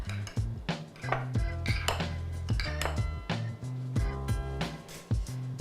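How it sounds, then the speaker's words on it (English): Matzah meal mixture stirred briskly in a bowl, a utensil clinking and scraping steadily against the sides in quick, rhythmic strokes, close and loud throughout. "Give this a really, really quick mix, just until everything's incorporated."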